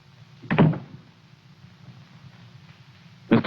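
An office door in a 1950 film noir opens with a short thump and latch, then after a quiet pause shuts with another brief knock, fairly close and with no talk.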